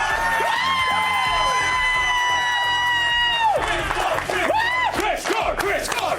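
Studio audience of mostly men cheering and whooping for Chris Gore, loud and sustained crowd shouts with rising whoops, no clear speech.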